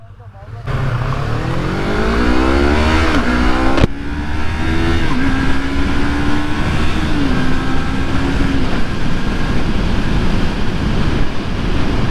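A Yamaha R25 motorcycle revs high during a small drag race, its loud engine note climbing steadily in pitch and holding a strained whine, with a brief rise and fall near the middle and rushing wind noise throughout.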